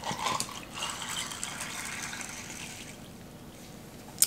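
About eight ounces of water poured into the side tank of a GE Profile nugget ice maker, a steady close trickling gush that tapers off toward the end, with no talk.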